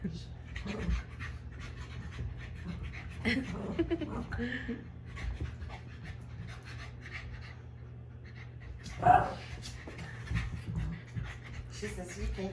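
A puppy pants in quick, breathy bursts with occasional soft whimpers and scratching at a birthday gathering, close and faint, while people talk over it.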